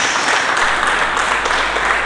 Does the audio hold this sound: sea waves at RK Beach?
no